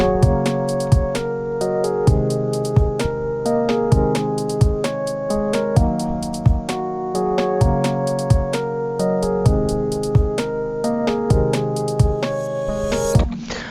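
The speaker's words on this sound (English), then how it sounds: "that sound you hear right there, right here, is a riser effect" A produced beat plays with a thumping kick, ticking hi-hats and sustained chords, then a short rising riser sweep swells at the very end.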